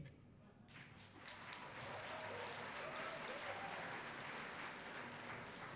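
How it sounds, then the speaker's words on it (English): An audience at a U.S.-China relations gala dinner breaks into applause after a quiet moment, the clapping swelling quickly to a sustained, dense roar of many hands that continues to the end. "Those who speak Chinese have applauded."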